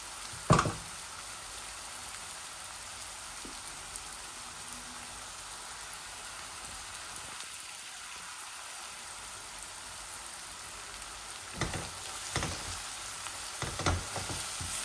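Pointed gourd and shrimp curry sizzles quietly in a pan with onions, a soft continuous frying hiss. A few sharp clatters come near the start and toward the end.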